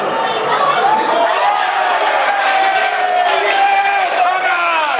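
France and Belgium World Cup fans in a packed pub roar and chant together after a win, a loud continuous crowd din of sustained shouting voices with rising whoops.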